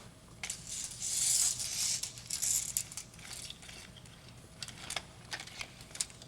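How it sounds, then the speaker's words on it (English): A tape measure retracting after being used to tighten a strap on a vehicle hail protector cover: a brief whirring rattle, then scattered clicks and taps nearby, moderately loud with no speech. "Go ahead and retract the tape measure"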